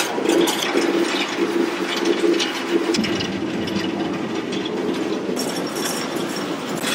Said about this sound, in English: this is a loud train